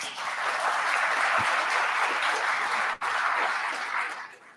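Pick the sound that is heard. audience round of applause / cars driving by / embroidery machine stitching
audience round of applause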